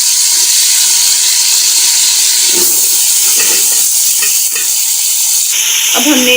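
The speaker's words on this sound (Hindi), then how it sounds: "अब हमने इसे तकरीबन थोड़ी देर के लिए फ्राई करना है।" Spices and chili frying in a pot of oil for vegetable pulao, a steady loud sizzle and hiss with occasional stirring scrapes, close and continuous, with no voices.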